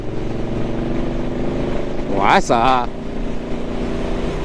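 A Suzuki GSX-8S motorcycle pulls from low revs in sixth gear at 60 km/h, a steady, close, throbbing engine drone with even harmonics. A rider's voice briefly cuts over it partway through.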